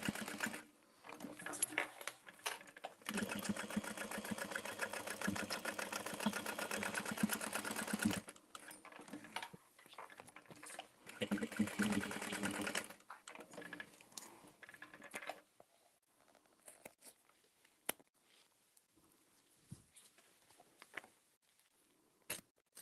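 A sewing machine stitches a Dreamer Pack in long steady runs of rapid buzzing, pausing between bursts, then giving way to quieter handling clicks and near silence toward the end.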